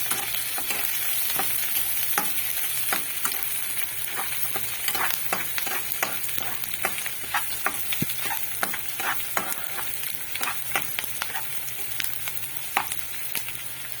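Onions with a sprig of curry leaves sauté in a pan with a steady close sizzle, broken by repeated sharp clicks and scrapes of a spoon stirring at an irregular pace.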